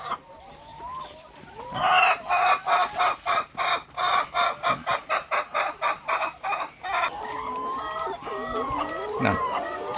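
Chickens cluck nearby in a quick rhythmic series of calls, with more scattered clucking and bird chatter around them.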